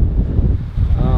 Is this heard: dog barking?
no